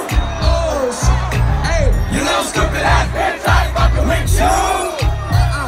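Packed rap concert crowd screaming and chanting along in unison over a heavy pounding beat, loud and close, with rhythmic bursts of massed voices.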